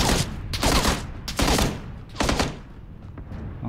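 Bursts of automatic gunfire in the video game PUBG, several loud rapid volleys close by in an uneven rhythm, with no talk over them.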